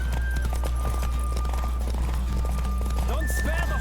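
Horse hooves clip-clop at a gallop in The Witcher 3, a steady rhythmic beat under game music and a voice talking over a race.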